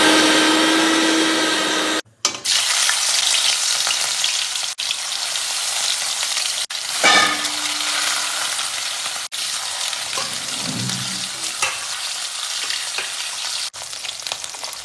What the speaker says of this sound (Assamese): এইফালে মাছ ভাজা হৈ গৈছে একদম কাঢ়াকৈ নাভাজোঁ অলপ অলপ ভাজি লৈছোঁ